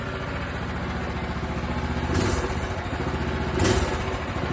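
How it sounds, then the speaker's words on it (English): A Predator 212 engine, swapped into a minibike in place of a 196cc, idles in a smooth, even, low putter. Two brief louder surges rise out of the steady idle. No one talks. "Y'all hear how smooth this idling and how quiet it is?"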